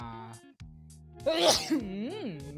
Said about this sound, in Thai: ได้ยินเสียงจามไปก็น่าจะได้ยิน